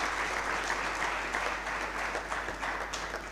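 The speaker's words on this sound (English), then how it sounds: "Can we also honor him by giving a big round of applause?" Steady round of applause from an audience at the launch ceremony of a digital innovation lab in Limpopo, dense and continuous clapping filling the room throughout at moderate level, with no voices rising above it.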